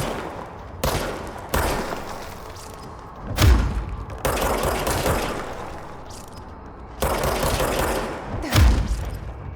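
Rapid bursts of gunfire in the action game Control, several loud volleys separated by short pauses, with heavy thumping impacts punctuating the shooting.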